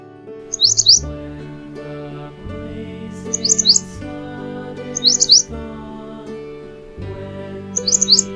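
Bright bulbul chirps in short trilled bursts repeat about every two to three seconds over a steady melodic music backing.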